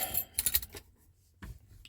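Metal keys for a 1984 Chevy C10 pickup clink and jangle in a short burst of bright metallic rattles, a pause, then one more jingle, close and fairly loud with no talking.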